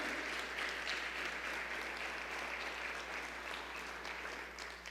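Dense, sustained applause from a crowd, steady and full throughout with no voices standing out, tapering slightly at the very end.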